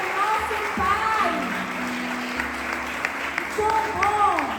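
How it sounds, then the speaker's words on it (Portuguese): A church congregation claps during a service, a steady wash of applause running underneath a speaking voice throughout. "Pode dar um forte aplauso ao Senhor"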